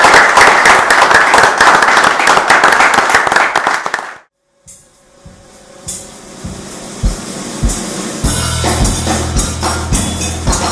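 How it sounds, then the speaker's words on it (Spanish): A crowd gives the team a loud burst of clapping and cheering that fills the first few seconds, then cuts off sharply, leaving quieter scattered knocks and clatter. "un gran aplauso a todos"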